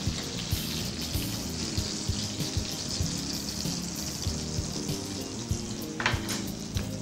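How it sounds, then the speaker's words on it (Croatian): Veal rolls fry in clarified butter in a pan over low heat, a steady crackling sizzle broken by soft periodic scrapes and taps, with no talking. "I tako pripremljene rolade stavljamo pržiti u tavu na pročišćeni maslac."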